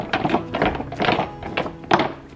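Glazed pottery pieces, some white, rub and knock together in a series of rough scraping bursts with dull clunks, close and fairly loud, with a sharper knock near the end.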